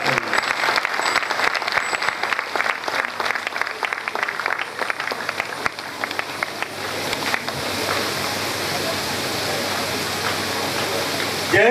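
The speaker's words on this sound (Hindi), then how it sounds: "तालियों से स्वागत करिए।" An audience applauds to welcome a guest at a Shrimad Bhagwat Katha religious gathering: loud, dense clapping that starts in uneven bursts with a few voices and then settles into a steady roar of applause.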